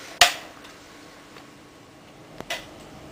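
A plastic battery cover slides into place and snaps shut on a Jing Gong AK SVD airsoft rifle, one sharp click followed later by a small tap and a second click, close up in a quiet room.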